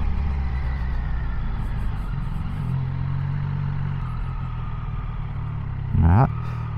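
A Triumph Tiger 800 motorcycle idling and rumbling as it makes a U-turn at a stop sign, a low steady engine drone with a short louder burst of revving near the end.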